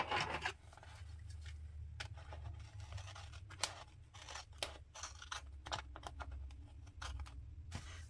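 Paper for a bullet journal is trimmed with scissors, giving a series of crisp, close, quiet snips and rustling cuts at an uneven rhythm. The room is otherwise still, with no talk.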